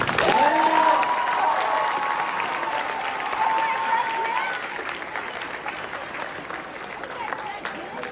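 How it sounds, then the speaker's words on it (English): An audience applauding at a closing event, with a full burst of clapping and a few whistles or cheers at the start that gradually thin out and fade while the crowd keeps clapping. "give that a round of applause, please."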